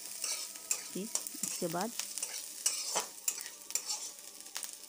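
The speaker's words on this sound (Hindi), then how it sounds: "टमाटर को हमने दे दिया, इसे चलाते रहेंगे।" Chopped chillies and tomato fry while being stirred for an egg masala Maggi, a faint sizzle broken by spoon scrapes, with a few short spoken words over it.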